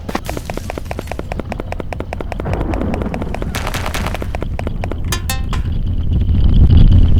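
A cannon fires in the video game Haunted Party, a fast series of sharp repeated booming shots that grows into a heavier rumbling barrage of blasts, loud and close.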